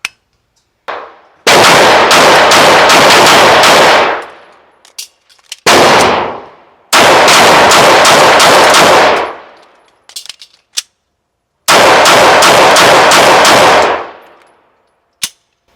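Walther PDP pistol fired by a shooter wearing gloves: three loud, sustained rapid-fire bursts, each lasting a couple of seconds, separated by brief pauses, with a few isolated shots between, close and with no talking.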